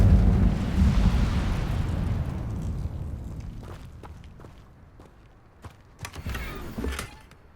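An Incendio fire spell cast in a Harry Potter video game bursts out as a loud, broad whoosh that fades over several seconds, followed by a few sharp pops and crackles.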